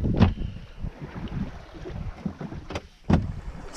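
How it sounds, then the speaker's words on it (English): Water rushing and swishing past the hull of a 1970 Contessa 26 sailboat underway at sea, a steady close wash with wind across the microphone and a few sharper splashes. "It's water moving, that is, past the boat."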